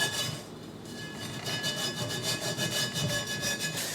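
Rust being scraped off a dull, worn cast iron pan, a rough rhythmic rasping of steady back-and-forth strokes, close up with no talking.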